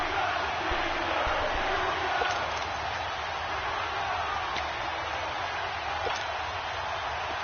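A video game football stadium crowd roars steadily and evenly throughout, a dense, constant wash of cheering noise with no distinct breaks.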